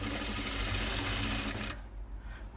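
A sewing machine stitches a folded hem on the sleeve of a plus-size nightie: a close, fast, even whirr runs for almost two seconds, then cuts off to quiet room noise.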